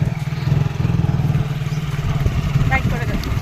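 A motorcycle engine runs steadily with a low, constant drone while riding on a street on the way to an old market in Behala, with people talking over it.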